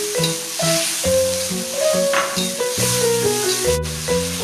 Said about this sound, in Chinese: 然后倒入我们调好的料汁，继续翻炒